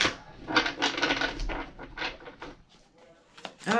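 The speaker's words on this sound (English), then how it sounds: "let's shuffle them up right quick" Tarot cards shuffled by hand, a quick run of soft papery riffles and flutters with small taps, close and fairly quiet, with brief pauses between bursts.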